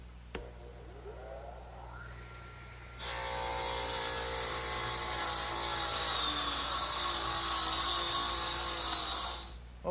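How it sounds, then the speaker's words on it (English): A radial arm saw spins up and cuts through wood. A sharp click comes first, then a loud, steady high whine for about seven seconds before it drops off. "I think I'll use my radial arm."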